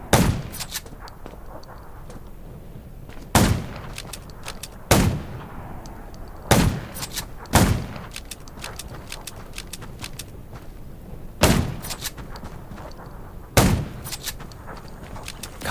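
Sharp, loud gunshots in the video game Undawn crack out one at a time at irregular intervals over a constant rumbling background, with no talking.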